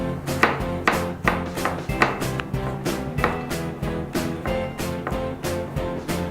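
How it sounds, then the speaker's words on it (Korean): Rapid, steady knife chopping of potato and zucchini on a board, many quick sharp taps in an even rhythm, close and fairly loud with no talking. "감자와 애호박은 잘게 다져줍니다"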